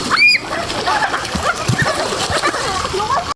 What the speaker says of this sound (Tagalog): enjoy na enjoy talaga sila sa pagligo at sa pag-slide